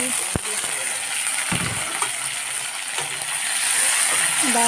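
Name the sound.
chopped tomatoes frying in a pan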